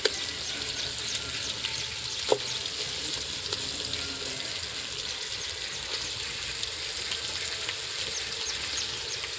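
Goat mutton sizzles and fries steadily in a pan during village-style mutton curry cooking, a continuous crackling hiss with one brief sharper knock partway through, no talking.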